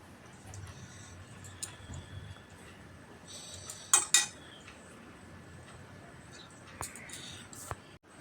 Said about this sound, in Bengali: এই একই পদ্ধতিতে আমি সমস্ত কাঁকরোলের শাঁস বের করে নেব।